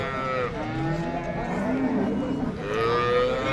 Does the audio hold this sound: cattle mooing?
yes